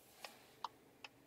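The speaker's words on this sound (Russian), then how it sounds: "Аварийная сигнализация." Hazard warning lights of a Skoda Octavia liftback with a 1.4 turbo engine and automatic gearbox, clicking three times at an even, slow pace, close and quiet with no other sound.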